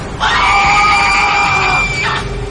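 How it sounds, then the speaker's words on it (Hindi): Two voices scream together in a loud, sustained, high-pitched cry lasting about two seconds, performed as a horror audio drama effect. "दोनों की ही चीखें एक साथ निकली"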